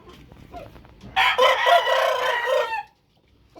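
A heavy Belgian Shamo rooster lets out one loud, close crow lasting about a second and a half, after a stretch of quiet farmyard background and before the backyard falls still again.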